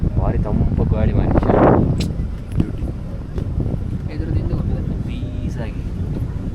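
Steady wind roars over the microphone during a boat ride through Periyar Wildlife Sanctuary in Thekkady, with water and engine rumble underneath; people talk briefly near the start.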